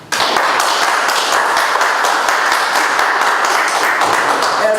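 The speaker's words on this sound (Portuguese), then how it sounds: "Essa foi demais, você não esperava, os aplausos." Steady, loud applause from an audience at a press or news event, a dense wash of many hands clapping continuously throughout after a brief quiet start.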